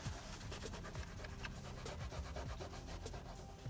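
Steady close rubbing and wiping of a cloth soaked in rubbing alcohol over a Honda steering wheel emblem, a continuous soft scrubbing with no talking.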